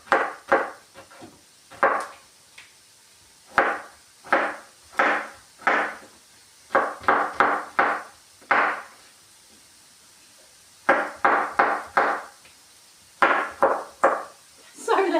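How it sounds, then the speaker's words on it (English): Knife chopping vegetables on a chopping board during meal prep, bursts of quick, close, sharp chops in irregular clusters separated by short pauses. "That chopping board, isn't it?"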